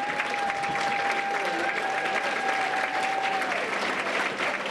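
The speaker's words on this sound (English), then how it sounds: "everybody here is going to give you a round of applause" An audience at a Hall of Fame ceremony applauds parents of scholarship winners, a dense sustained round of clapping from a large crowd with a faint tone running beneath it.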